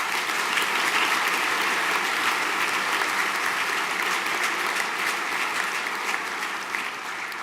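Steady applause from a school prizegiving audience, dense even clapping lasting several seconds at moderate level from a hall full of people, with no voices over it.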